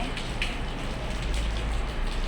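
Light drizzling rain falling outdoors, a steady, even patter that hisses softly throughout with no talking over it.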